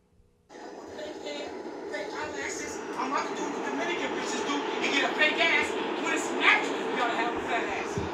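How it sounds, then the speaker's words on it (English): A moving train gives a steady, loud rumbling roar with rising rattles and clanks, heard from inside or right beside it, with a voice talking over the noise. "that big sound is the train. Like, it just has a sound to it when it's moving"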